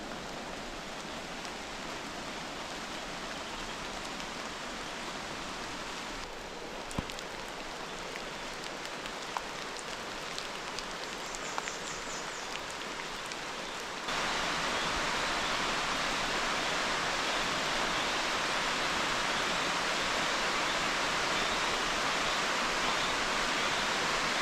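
Heavy rain pours down through a rainforest canopy in Martinique as a steady, dense hiss, growing noticeably louder and fuller about halfway through and continuing unbroken.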